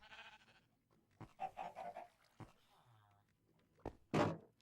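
Farm animals such as cows and sheep in a video game, with short bleating calls scattered through the clip, the loudest burst near the end, over quiet background noise.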